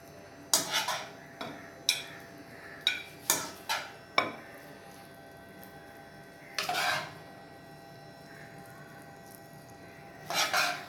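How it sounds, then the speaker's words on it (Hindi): Sweet jaggery rice is scooped into a serving dish, with a run of distinct spoon clinks against the dish, a pause, then a few softer scraping taps, quiet and close with no voices. "अभी मैं सर्विंग डिश में डाल रही हूँ।"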